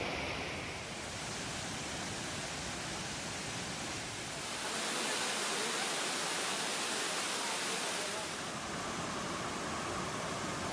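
Jantur waterfall gives off a continuous, faint rushing roar of falling water that swells slightly midway and carries no voices.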